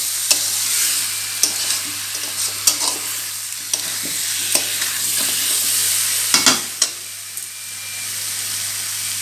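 Masala for a shankar fish curry is stirred and fried in a pan, a bright steady sizzle broken by repeated sharp scraping clicks from the spatula, close and fairly loud, no speech.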